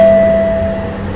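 An LRT Jabodebek light rail train runs at night with a steady low rumble and a thin high whine that fades partway through, loud and close, as if heard from inside the car.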